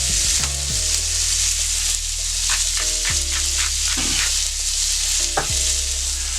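Shrimp cooking on a Steelmade hibachi griddle alongside lobster, a loud, steady, hissing sizzle up close, with a few brief spatula clinks and scrapes over a constant low hum.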